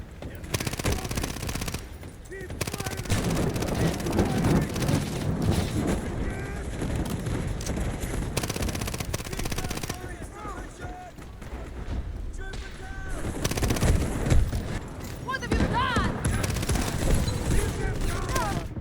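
Rapid submachine gun fire from an MP7 in a first-person shooter game, sustained bursts of loud close-range shots running nearly throughout, with voices talking over the firing.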